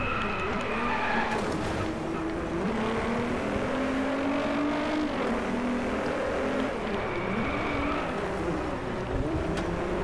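Racing car engine in the video game Driveclub, a loud continuous drone whose pitch rises and falls through gear changes, with tyre noise layered over it and no speech.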